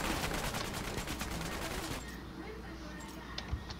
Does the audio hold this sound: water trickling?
no